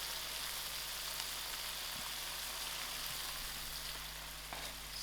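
Chicken kebabs cooking in tomato chutney under a lid give a steady, close sizzle and crackle of frying that holds evenly throughout with no talking.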